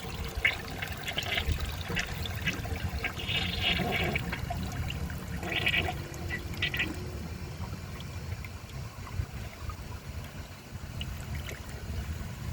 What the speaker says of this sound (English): This toilet just has a slow and weak flush in general